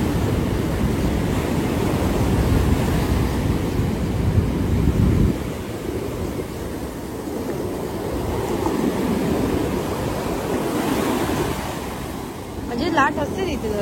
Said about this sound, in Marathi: जेवढं लाट मोठी तेवढे पाणी जास्त वरती येतं.